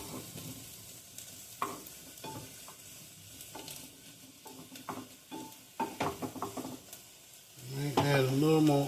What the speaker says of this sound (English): Add a little more oil. It seems like the mushrooms are sucking it up.